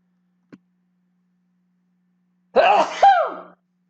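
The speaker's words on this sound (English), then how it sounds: "Oh man, I feel a sneeze coming on." After near silence and a faint tick, a single loud, close sneeze bursts out in two quick parts.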